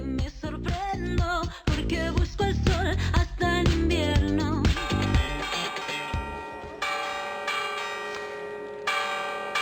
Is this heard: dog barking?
no